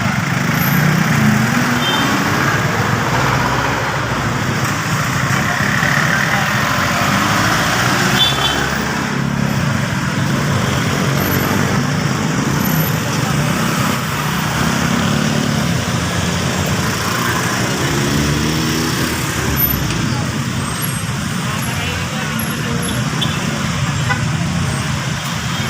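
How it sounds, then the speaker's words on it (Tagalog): Busy street traffic on Ortigas Avenue after a collision between a motorcycle and a Montero Sport, with car engines idling and rolling past nearby, a steady loud roadway roar and occasional horn toots throughout. "May traffic na talaga dito ngayon."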